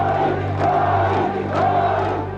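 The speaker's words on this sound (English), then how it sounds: "greeted by tens of thousands of cheering supporters" Tens of thousands of supporters cheer and chant in a street rally, a loud continuous crowd roar with rising shouted swells, no single voice standing out.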